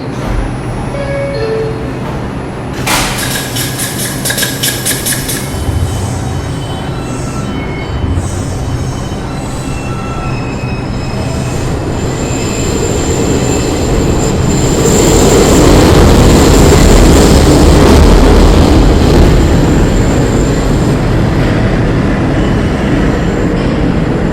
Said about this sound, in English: This is a Bronx-bound 1 train.